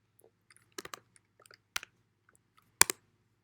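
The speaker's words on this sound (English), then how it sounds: "So I'm going to type in the cell address." Keys on a computer keyboard are tapped to enter a spreadsheet cell address, giving a few sparse, quiet clicks in short clusters over a faint steady hum, with no talking.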